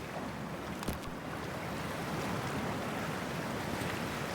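Rushing, churning water and wind noise as a character dives into freezing water in Cyberpunk 2077, a steady broadband wash with a brief splash-like burst near the start, no speech.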